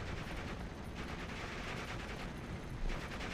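Tiger tank cannons firing during a Steel Division 44 battle, heard as a dense, continuous roar of gunfire and explosions with one slightly louder burst near the end, no voices.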